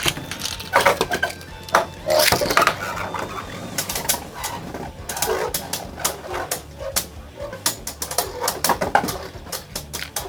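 Beyblades Inferno Salamander and Harmony Pegasus clash in a stadium, producing a rapid series of sharp, irregular clicks and metallic hits over a low spinning hum.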